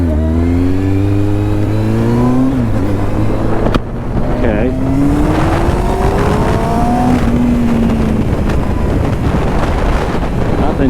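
A Kawasaki Z1000 motorcycle engine revs repeatedly, pitch climbing and falling through throttle blips, loud and close with wind buffeting the microphone.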